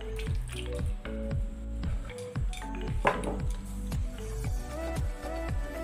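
Tomatoes bubble and squish in a pan with rhythmic wet popping and sizzling as they sauté in a little water, close and steady.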